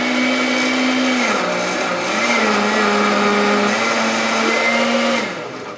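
A blender whirs steadily as it purées a fruit smoothie with low-fat yogurt and whole grains, a loud continuous motor drone whose pitch shifts briefly a couple of times before winding down at the end.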